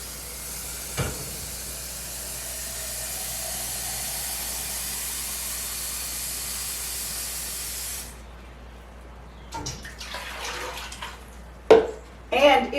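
A quart of water pouring into a canning pot in an outdoor kitchen, a steady hissing stream for several seconds that stops abruptly, followed by a few clanks and knocks.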